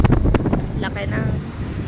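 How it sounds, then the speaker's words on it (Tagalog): Strong waves surge at a river mouth meeting the sea, a loud rushing wash mixed with heavy wind buffeting close to the microphone, and voices talking briefly over it. "Lakas ng alon."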